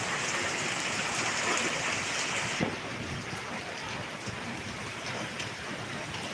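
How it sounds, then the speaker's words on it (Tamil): Heavy rain pours steadily over Thiruvarur, giving a dense, even hiss that continues unbroken throughout with no voices. "அதிக மழை பெய்ந்திருக்கு"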